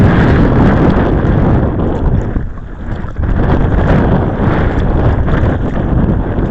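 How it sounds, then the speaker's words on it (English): Strong wind roars and buffets the microphone while kayak fishing on open water, a loud continuous rumble that dips briefly midway before surging back. "I think the wind is what's really hurting us out here"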